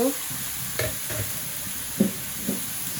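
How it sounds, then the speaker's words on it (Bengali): Sweet pumpkin curry with green chillies and a little water, stirred in a pan. A soft sizzle runs beneath a few distinct scraping spoon strokes, close and fairly quiet. "এখন নাড়িয়ে দিব"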